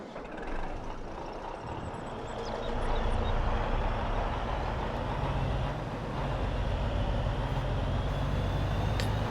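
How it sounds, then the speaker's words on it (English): A semi-truck drives in Farming Simulator 22, its engine a steady low rumble that grows a little louder after a few seconds and holds on, with no talking. "let's get over here to the semi-truck"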